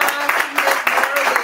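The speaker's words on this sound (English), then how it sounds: "Let's give the Lord a hand clap of praise" A church congregation clapping in praise at a Palm Sunday service, a dense burst of many hands clapping together with uneven, pulsing loudness, filling the short moment at close range.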